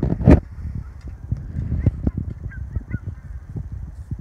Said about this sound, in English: Geese are coming back for the evening.